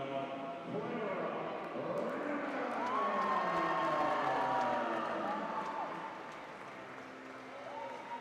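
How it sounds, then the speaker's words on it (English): Spectators at the ECAC Open Swimming & Diving Championships give a swimmer an ovation, steady applause and scattered cheers echoing through an indoor pool hall at moderate volume, swelling in the middle and easing off toward the end. "Renner getting a nice ovation from the crowd here at Kenny Torrey"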